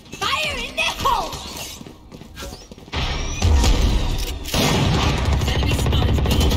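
Chaotic Valorant match audio with sharp bursts, shattering and clattering impacts that settle into a loud, sustained rumble after the midpoint, with voices calling out briefly over the game sounds.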